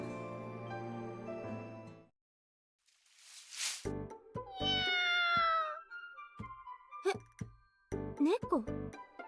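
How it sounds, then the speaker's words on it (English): A kitten gives several high, wavering meows in an anime-style game scene, after a quiet gap. The meows are close and clear, with short soft knocks and chimes between them. "猫？どうして猫が？"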